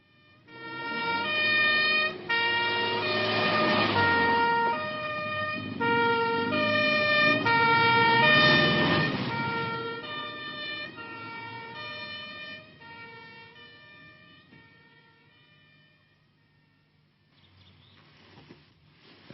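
An ambulance siren wails loudly in long rising and falling tones, repeating for several cycles before gradually fading away into a faint, distant background.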